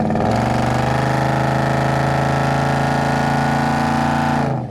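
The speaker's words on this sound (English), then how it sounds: "Full aftermarket exhaust, all the way from the front to the back, has a great exhaust note" A deep, throaty exhaust note from a 1971 Chevrolet C10 truck with a 350 engine and full aftermarket exhaust, loud and close, holding a steady rumble before cutting off.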